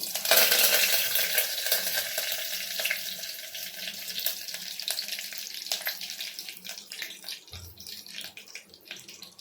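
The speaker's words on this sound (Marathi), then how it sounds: "तेल चांगलं तापलं आहे त्यामुळे कढीपत्ता टाकते" Curry leaves dropped into hot oil, a loud crackling sizzle that bursts at first and then slowly settles into a fainter steady hiss.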